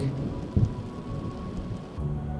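Steady rain pours with rolling thunder rumbling underneath, a heavier thunder burst near the half-second mark, forming a continuous thunderstorm sound effect for a Turkish audio story.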